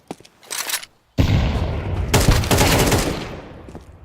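Counter-Strike 2 gunfire and a grenade blast: a short burst of shots, a brief pause, then a loud booming explosion followed by rapid fusillade-like firing that tails off, close and loud with no talk.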